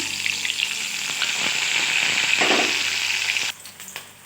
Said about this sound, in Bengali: পাঁচ ফোড়ন দিয়ে দিয়েছি পেঁয়াজ ফোড়ন দিয়ে দিলাম